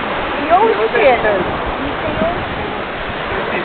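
Waves washing and rushing onto a sandy beach, a constant loud, close roar of surf with a few swells, while voices talk and exclaim over it.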